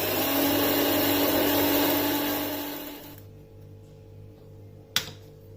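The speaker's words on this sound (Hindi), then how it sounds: "ग्राइंडर को चला देना है" An electric spice grinder whirs loudly while grinding biryani masala spices, a steady motor drone that winds down and stops, followed by a faint hum and a single sharp click.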